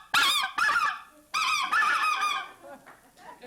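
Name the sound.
goose call imitating a goose honk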